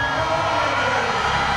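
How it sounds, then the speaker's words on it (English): A large stadium crowd at an elite women's athletics track race roars steadily in loud, continuous cheering with scattered whoops and yells, a dense wall of sound that holds without breaks throughout. "And you can hear the crowd appreciation"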